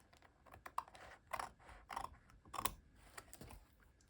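Paper is cut for an altered-book collage with an archaeological theme: a faint, quiet run of small snips and clicks in an irregular rhythm.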